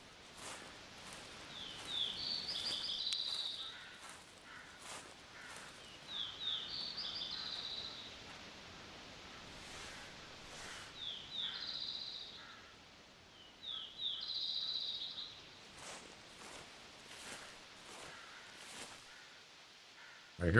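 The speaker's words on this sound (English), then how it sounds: "I hear birds." Birdsong in the hunting game theHunter Classic: four faint, high chirping phrases spaced a few seconds apart over a soft outdoor ambience, no voices.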